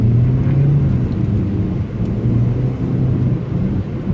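Steady road rumble from inside a moving car, with heavy trucks around it at rush hour, loud and continuous low-frequency drone with no voices.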